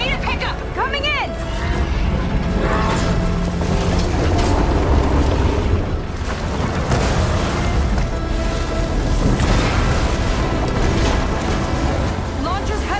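A heat sink blows up in Horizon Forbidden West, giving a loud, sustained rumbling blast with bursts and mechanical clatter, set under constant game noise and voices.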